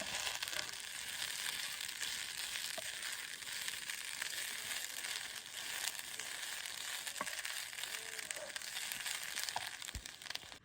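Saag greens being stirred and mixed in a hot oiled wok, giving a steady, dense sizzle and frying hiss with faint scraping. The sound is continuous and even throughout, fairly quiet and close, with no talking.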